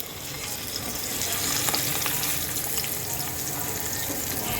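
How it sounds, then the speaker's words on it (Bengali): Catla fish pieces fry in hot oil in a wok, giving a dense, bright, continuous hiss that swells slightly and stays loud and close with no voices. "এখন আমি মাছগুলো ছেড়ে দেব তো চলো মাছটাকে আগে সুন্দর করে ভেজে নেই"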